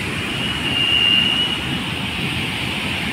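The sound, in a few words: water rushing over a weir on the Bhima river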